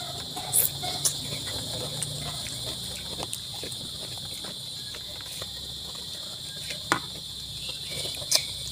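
Crickets chirp in a steady, shrill, continuous trill at night, fairly faint and constant throughout, with occasional soft clicks and knocks nearby.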